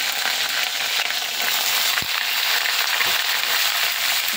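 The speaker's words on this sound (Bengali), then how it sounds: "একটু হালকা ভেজে ভেজে নেবো।" Vegetables, including potato and cauliflower, fry in a pan with a steady, dense sizzle throughout, a sharp clink or stir near the middle and no talking.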